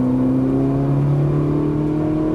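A Ferrari 458 Italia engine pulls hard under full throttle, a loud steady drone with a rising pitch, heard close from inside the car with no talking.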